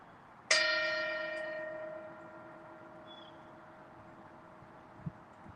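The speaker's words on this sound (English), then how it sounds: "And I'll invite the bell to sound for this sacred text." A mindfulness bell in a Sunday service is struck once, ringing out clearly with a bright metallic onset and a long sustained tone that decays slowly over several seconds in a quiet room.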